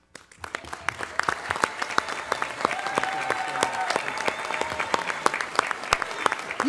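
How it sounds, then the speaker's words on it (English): Council meeting audience applauding a retiring police chief with dense, sustained clapping that builds quickly and stays steady throughout. "You all give him a standing applause"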